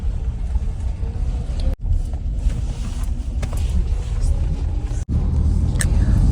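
A car pulls away from a service center after being washed and vacuumed, its steady engine rumble and road noise running loud and continuous with two brief dropouts.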